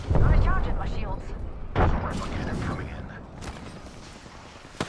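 A frag grenade explodes in the video game Apex Legends. A heavy, booming blast with rumbling gunfire-like crackle and a second loud burst shortly after, dense and close, with game voice lines around it.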